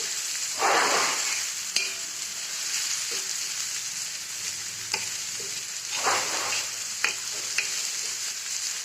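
Peanuts and lentils roast in hot oil in a pan, giving a continuous close sizzle with bursts of stirring and occasional sharp taps of a spoon against the pan.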